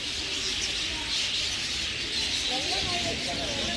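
A large flock of lovebirds in a shop or aviary chirps and twitters continuously, with a dense steady chatter of high tweets and a few clearer calls near the end.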